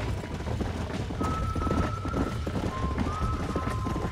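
In the Red Dead Redemption video game, a horse's hooves clip-clop at a gallop as it neighs and whinnies, all under a steady bed of in-game ambience.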